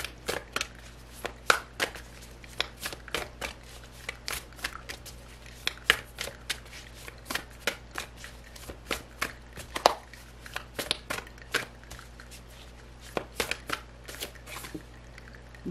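Tarot cards being shuffled in repeated quick riffling bursts, crisp and close in a quiet room, with no talking.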